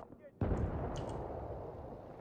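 A grenade detonates in a competitive online shooter match, a sudden loud boom that rolls into a long rumbling tail lasting about two seconds, with faint team voice chat around it.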